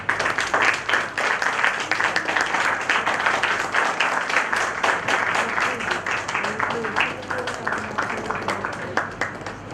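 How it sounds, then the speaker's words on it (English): An audience in a conference hall applauds the chief guest at a felicitation, with steady, full clapping that carries on for about ten seconds at an even level. "A big round of applause."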